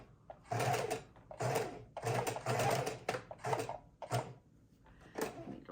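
A sewing machine stitches the seams of a handmade mini junk journal in repeated bursts, each run lasting about half a second to a second with short pauses between, close and fairly loud.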